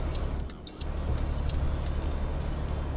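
A Volvo truck in Euro Truck Simulator 2 drones steadily with a low engine rumble, a brief dip then a continuous loud hum with faint ticking above.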